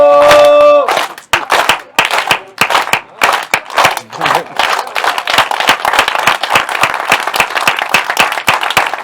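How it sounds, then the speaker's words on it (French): A crowd of about 300 spectators at a padel tournament final claps in steady rhythmic unison, loud and close, after a brief musical note at the start, with voices mixed in. "Il y a 300 personnes qui tapent dans leurs mains."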